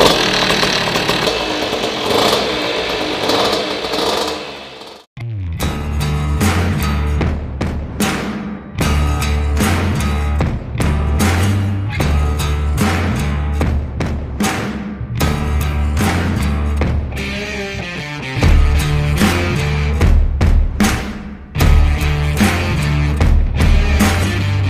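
A moped tuned for top speed is kick-started with starter spray, then runs loudly and steadily, close by, with shifting throttle for about twenty seconds after a short opening burst and a brief gap.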